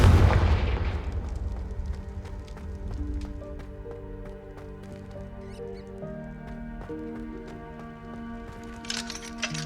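A Confringo blasting spell bursts loudly at the start in Hogwarts Legacy during an arena fight, a broad explosive whoosh that quickly fades into a sustained tonal game soundtrack with scattered small impacts.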